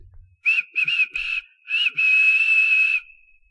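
A train whistle toots in several short blasts, then holds one long steady tone before trailing off, clear and close.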